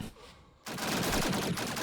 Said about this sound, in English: it is just machine guns everywhere